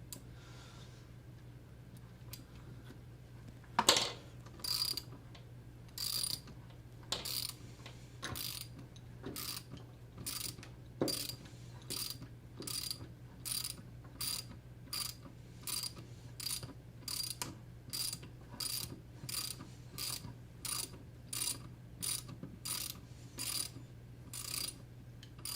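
Rapid, steady clicking of a 10mm socket wrench's ratchet pawl while unthreading a lifter nut, a long run of sharp, evenly spaced ticks that is fairly quiet against a low background hum.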